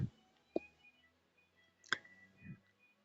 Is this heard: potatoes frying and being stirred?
no